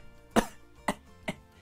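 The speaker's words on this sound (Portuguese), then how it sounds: "Ah, agora tá com tosse." Three short, quiet coughs in a row, spaced about half a second apart, each a sharp burst fading quickly, in an otherwise still room.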